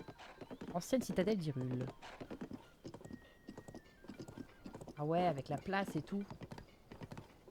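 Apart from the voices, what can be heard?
horse hooves clip-clopping on stone road, Zelda Tears of the Kingdom video game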